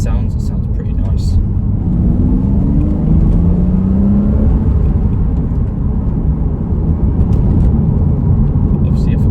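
A 2010 Porsche Cayman S with the 3.4 engine and a 6-speed manual gives a loud, deep exhaust drone, heard close by with some rising revs in the first few seconds.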